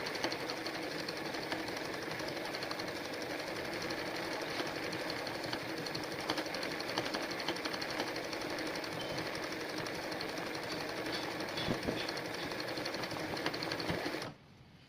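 A machine embroidery sewing machine stitches a running stitch in a steady, continuous mechanical whir with rapid needle ticks, close and moderately loud, running unbroken for about fourteen seconds before stopping abruptly.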